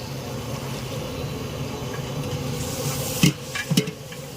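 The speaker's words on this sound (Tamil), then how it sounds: "இப்போ தக்காளி போட போகிறோம்" Tomatoes are added to a pan for mushroom biryani and sautéed, with a low, steady sizzle. A few sharp clanks of a spoon or ladle hitting the pan come near the end, close by, with no talking.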